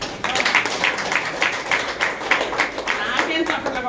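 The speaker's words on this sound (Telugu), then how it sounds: "నాకేం చప్పట్లు కొడతారు." An audience claps steadily throughout, a dense, continuous patter of many hands at an indoor talk, fairly loud and without breaks.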